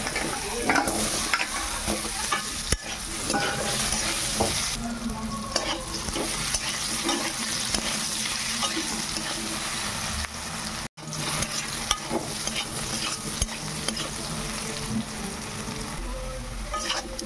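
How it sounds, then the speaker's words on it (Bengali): Sliced potatoes with salt and turmeric frying in hot oil in a kadai, a steady loud sizzle with repeated scraping and clattering stirs of a spatula throughout. "আলুগুলো ভাজা হয়ে গেছে, এবারে তুলে নেব"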